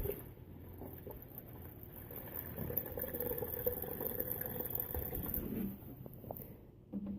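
Water is poured over plants in a soda bottle garden tower, a soft continuous trickle and bubbling splash close by, steady for several seconds before tapering off.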